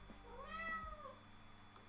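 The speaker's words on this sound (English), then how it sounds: "You guys hear my cat?" A domestic cat lets out one drawn-out, rising and falling meow from the kitchen. It is faint and sits over a steady background hum, with no speech.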